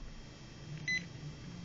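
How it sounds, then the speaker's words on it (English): A single short electronic beep, clear and high-pitched, from a 1/18-scale RC car's EZ-Run electronic speed controller during programming, over a low background hum. "It'll turn green and beep once."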